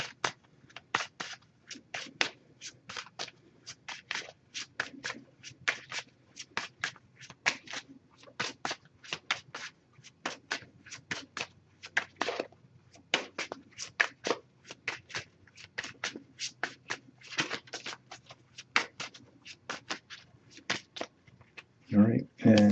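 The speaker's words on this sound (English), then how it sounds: "Just going to pull a single card from this deck." Tarot cards being shuffled by hand in a rapid, steady riffling patter of short crisp card clicks and slaps that runs close up and alone for over twenty seconds, then a single card is drawn.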